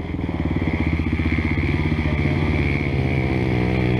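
A motorcycle engine revs and idles close by with a steady, loud rhythmic pulsing that rises and falls over several seconds, playing alone.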